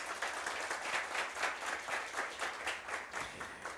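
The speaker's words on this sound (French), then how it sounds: "que je vous demande bien sûr d'applaudir très chaleureusement" Faint, steady applause from an audience at a competition event, a dense patter of clapping heard alone at a distance.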